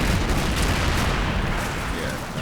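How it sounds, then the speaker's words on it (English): A cannon fires in the war game Combat Mission: Black Sea, a loud, dense boom whose rumble fills the whole stretch and slowly tapers without dying away. "That definitely sounds and looks like a cannon."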